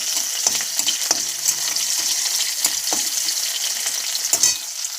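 Black cumin and chopped onion fry in hot oil, giving a loud, continuous sizzle up close, broken by occasional stirring scrapes; no talking.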